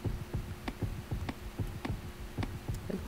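A game heartbeat thumps in a steady, moderately fast double-beat rhythm, low and muffled, repeating evenly over a faint hum.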